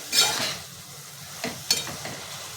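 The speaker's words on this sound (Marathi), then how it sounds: "डार्क सोया सॉस टाकून घेते आणि हे सर्व मिक्स करून घेते" A spoon stirs fried vegetables coated in dark soy sauce in a pan for mushroom fried rice, giving a soft sizzle with a few scraping strokes and light clinks, close and quiet.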